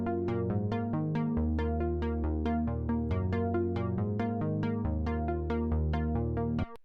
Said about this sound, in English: the first thing I'm going to show you is this main sort of keys pluck sound that is throughout